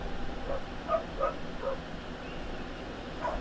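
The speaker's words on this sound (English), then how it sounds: "My dogs are barking, and not in the figurative sense" Small dogs in a room give a few soft, yipping barks and whimpers, spaced irregularly and fairly faint against a quiet background hum.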